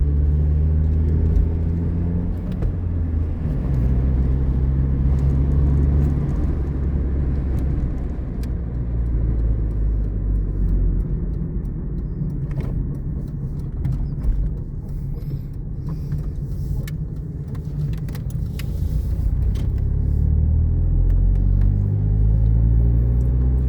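A manual-transmission car cruises along a highway, its engine and road noise forming a loud, steady rumble from inside the cabin with no pauses.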